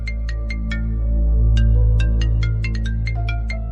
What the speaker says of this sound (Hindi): एक मिनट, फोन आ रहा है।